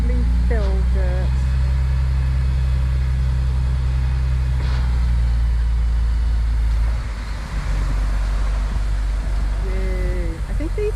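A dump truck hauling about 15 tons of fill dirt rumbles in loud and close, its heavy engine drone steady throughout, with a brief squeal and a dip near the end as it maneuvers into a backyard.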